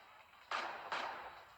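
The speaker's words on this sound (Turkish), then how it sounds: "O havai fişekler patlıyor sağda solda" Fireworks effects in the online live casino game Crazy Time, two sharp bursts about half a second apart, each leaving a hissing tail, heard fairly close with no voices.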